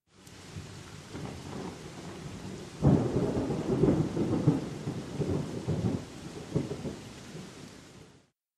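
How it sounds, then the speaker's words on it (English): A thunderstorm rolls through with steady rain hitting surfaces, a loud thunderclap near the three-second mark, then lingering rumbles over the continuous downpour before it fades out. "A big storm was coming."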